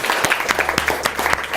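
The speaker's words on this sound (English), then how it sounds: "So let's have another round of applause for the question." An audience at a business talk for young entrepreneurs applauds steadily, a dense, continuous patter of many hands clapping throughout.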